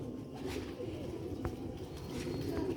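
Lal Moti pigeons coo softly and repeatedly at a faint, low level, with a few light rustles and chirps around them and no talk.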